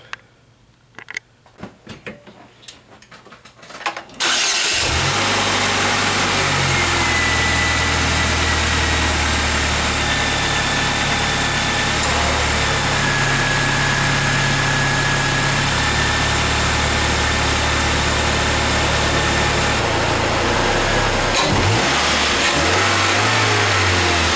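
After a few seconds of faint clicks and rustling, a Saturn Sky or Pontiac Solstice engine with a newly fitted cold air intake cranks and catches, then settles into a steady, loud idle with occasional slight revs.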